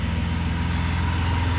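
A car engine idles steadily just after a radiator replacement, with a low, even rumble close by and no talk over it.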